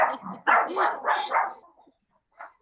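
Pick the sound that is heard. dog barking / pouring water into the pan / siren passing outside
dog barking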